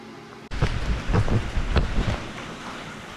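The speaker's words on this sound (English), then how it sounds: "It just started raining out of nowhere." Rain begins suddenly and loudly, a dense patter with a few heavier thuds, then settles into a steady downpour.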